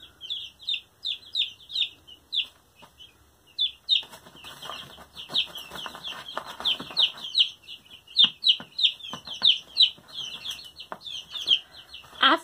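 Young chicks in an indoor brooder box peep in rapid, high, repeated chirps, joined by bursts of wing flapping and scuffling, close and fairly loud throughout.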